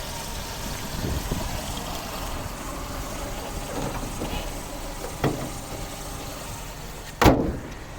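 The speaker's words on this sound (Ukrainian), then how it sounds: "Ось робота двигуна." A 2006 Skoda Octavia A5 with a 1.6 MPi petrol engine idles in a low, steady hum, broken by a couple of sharp clunks near the end.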